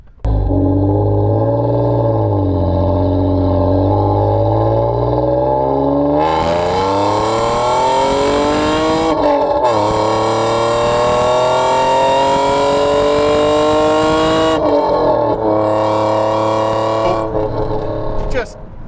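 Alfa Romeo 155 with its Busso V6 pulling hard up a road, a loud, continuous engine note rising steadily through the revs with brief dips at gear changes before climbing again, close and dominant throughout.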